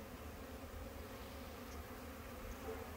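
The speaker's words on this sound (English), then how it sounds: "A lot of bee traffic coming across these frames." Honey bees hum in a dense, steady drone around hive frames during a spring inspection, close and continuous throughout.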